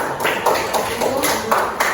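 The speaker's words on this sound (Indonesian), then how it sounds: "kasih tepuk tangan dulu" Students in a classroom clapping briefly for a classmate's answer, a short uneven patter of hands with a few sharper claps.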